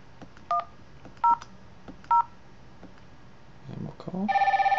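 A SIP softphone placing a call to a 3CX VoIP client plays three short dial-tone beeps spaced evenly apart, followed by a brief rumble and then a steady electronic ringing tone that starts near the end.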